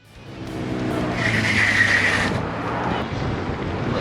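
A Dualtron Man electric scooter brakes hard on a 25-degree incline, its tire letting out a loud, close skidding squeal that rises and holds for a few seconds over rushing wind.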